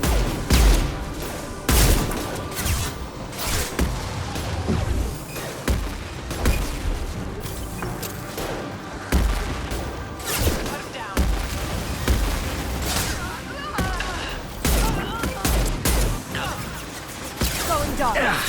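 Mass Effect 2 combat: sharp, irregular gunshot bursts and heavy impacts recur throughout, mid-distance and loud, over scattered voices and background game sound.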